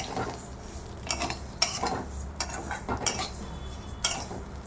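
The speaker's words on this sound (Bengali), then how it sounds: "এই ঘিটা দিয়ে সিমইটা একটু হালকা করে ভেজে নেবেন।" Vermicelli (semai) frying in hot ghee, stirred with a utensil: a steady low sizzle under repeated scraping clinks of metal against the pan, close and fairly quiet.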